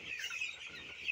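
A flock of 16-day-old Aman-company broiler chicks on a farm in winter, a dense, continuous chorus of high peeping and clucking, fairly close and steady, with no talk.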